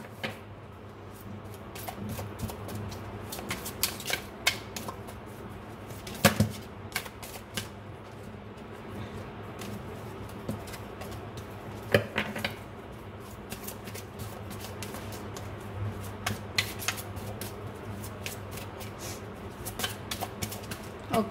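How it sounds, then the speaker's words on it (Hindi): Tarot cards are shuffled and drawn, making quiet repeated papery flicks and soft taps in an uneven rhythm, close by and without speech. "चलिए एक कार्ड और निकालते हैं।"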